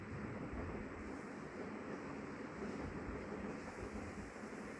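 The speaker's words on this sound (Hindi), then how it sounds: "ये मैंने इसके अंदर थोड़ा सा देसी घी ऐड किया। इसकी अच्छी तरह हम भुनाई करेंगे।" Mutton karahi fries in desi ghee, giving a dense, even hiss that stays constant throughout, moderately quiet, with no speech and no distinct stirring sounds.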